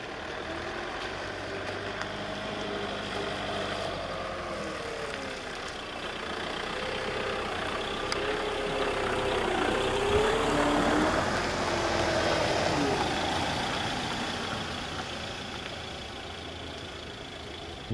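A Dethleffs Globebus motorhome's 2.3-litre, 150 horsepower Fiat Ducato diesel engine drones steadily while driving, a low rumbling hum that rises slightly and falls, with road noise underneath and no talking.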